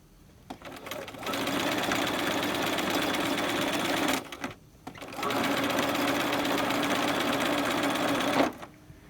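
A sewing machine stitches in an invisible zipper, running in two steady, close whirring bursts of about four seconds each, separated by a short pause.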